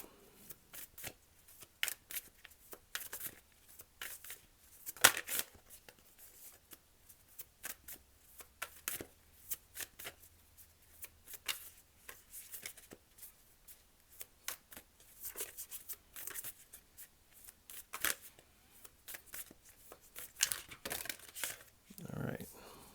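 Tarot cards shuffled by hand in a string of soft, irregular riffles and flicks, fairly close but faint, with a few sharper slaps and no talking during the shuffle.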